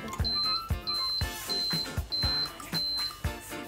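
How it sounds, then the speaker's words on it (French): A Babycook baby food maker sounds short electronic end-of-cooking beeps, five or six evenly spaced high tones, faint, over soft background noise and thumping sounds. "la sonnerie en fin de cuisson"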